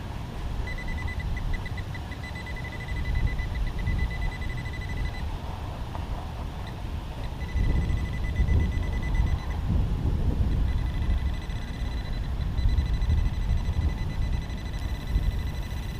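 A metal detector's electronic beeping tone sounds in intermittent bursts over heavy low rumbling and handling noise, steady and fairly close.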